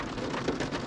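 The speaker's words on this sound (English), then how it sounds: "it's supposed to stop raining" Rain falls steadily on a riverside campground in Florida, a dense, even patter that stays close and fairly loud, with no voices.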